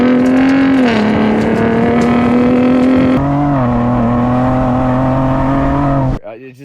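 Ford Bronco Raptor engine and exhaust under load while driving through the desert, a loud steady drone that shifts pitch once midway, continuous and close before cutting off at the end.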